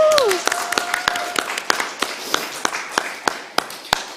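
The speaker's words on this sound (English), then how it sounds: "A big round of applause." Sparse, distinct hand claps from a few people at a virtual awards event, spaced irregularly and fairly close, with brief voice sounds at the start.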